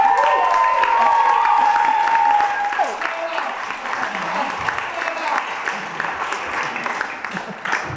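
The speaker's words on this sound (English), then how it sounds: "So can we just give them a big clap?" Wedding guests at a reception clap and cheer together in a loud, sustained burst, with a whistle at the start and voices mixed into the applause.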